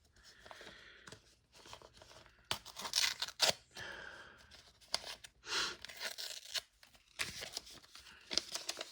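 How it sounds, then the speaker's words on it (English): Paper tearing as a returned letter envelope is carefully ripped open, several close crinkling rips and rustles in uneven bursts, with no talking. "Careful tearing into this."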